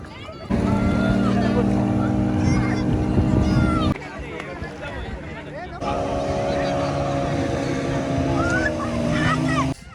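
Motorboat ride on the sea off Goa, a loud steady engine drone with a horn-like tonal whine that drops out briefly midway and then resumes, with people talking over it.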